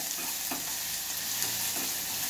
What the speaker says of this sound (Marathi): कांदा साधारणतः सोनेरी रंगावरती परतायचा आहे